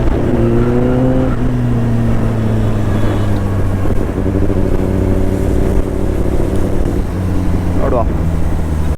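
A video game vehicle engine revs hard in first gear on an empty highway. Its loud, steady drone climbs in pitch as it accelerates, while someone talks over it.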